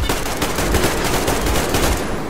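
Automatic gunfire rattles in rapid, continuous bursts in the video game Metro Exodus, loud and dense for the whole stretch with no talk over it.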